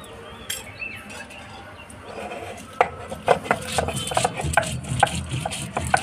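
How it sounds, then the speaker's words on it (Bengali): A knife chops pointed gourds (potol) on a board, a run of close, irregular taps that start softly and grow sharper and more frequent over several seconds. "পটলগুলো এভাবে কেটে নিচ্ছি।"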